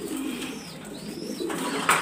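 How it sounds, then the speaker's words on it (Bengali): Giribaz pigeons coo at a pigeon farm, with soft, close, rolling coos over a dense murmur of other birds and a brief sharp rustle near the end. "এটার বাচ্চা, এলো মাদি কবুতর"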